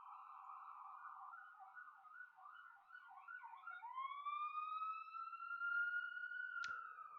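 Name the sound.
ambulance siren outside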